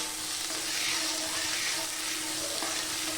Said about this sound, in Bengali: একটু হাইতে দিয়ে আমি পেঁয়াজটা একটু ভাজা ভাজা করে নেব